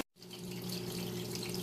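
Water runs through a small indoor aquaponics siphon system built from half of a 55-gallon drum. After a brief silence it starts as a steady close trickle and gurgle over a low pump hum, with no talking.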